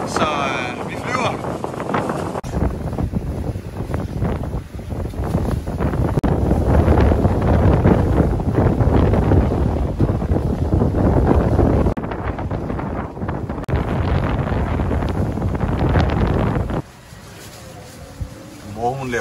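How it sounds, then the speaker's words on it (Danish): Strong wind buffets the microphone aboard a sailboat under sail, a loud, steady roar with rushing water that runs almost the whole time and drops off sharply near the end. "Og så fik vi vind igen. Så vi flyver."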